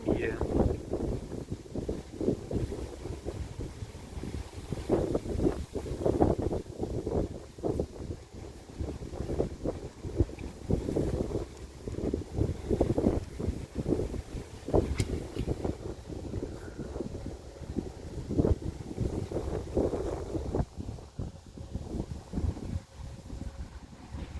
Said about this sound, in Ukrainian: Вітер жахливий.